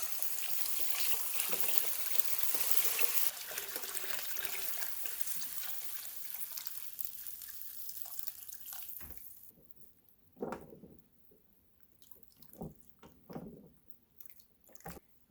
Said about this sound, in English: And then I fill it up with water.